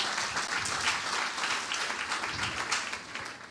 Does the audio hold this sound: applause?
yes